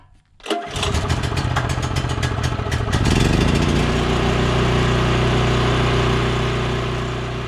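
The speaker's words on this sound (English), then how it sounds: "So let's get this generator on so we can get some cool air in there." An RV generator at a desert campground cranks briefly, catches and settles into a loud, steady running drone that continues to the end.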